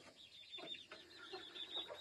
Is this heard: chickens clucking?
yes